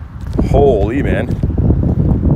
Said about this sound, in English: That is pretty windy.